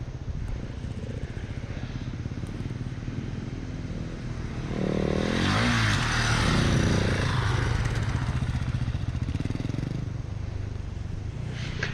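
Husqvarna 701 and KTM 690 motorcycles riding offroad on steep hills, with a steady engine drone that swells louder in the middle as a bike passes near, then eases back.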